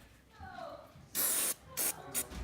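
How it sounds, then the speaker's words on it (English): Solvent sprayed into the chamber of a Ruger Mark IV Hunter pistol: three short, close, loud aerosol hisses in quick succession, with faint talk just before. "So this, spray down with solvent"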